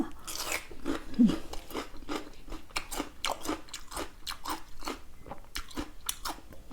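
Crunchy biting and chewing while eating fresh Thai curry, a steady run of close, sharp crunches and smacking chews repeating throughout, with no talking.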